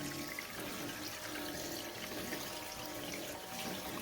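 Water rushes steadily and quietly through a gold clean-out sluice about 100 inches long and 4 inches wide at a flour gold mill, making an even, continuous wash with no voices.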